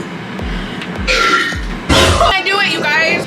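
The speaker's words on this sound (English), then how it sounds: "Oh, my burp." A woman lets out loud, deep burps in a restaurant, several short croaking belches in quick succession followed by longer voiced ones, with people talking and laughing around her.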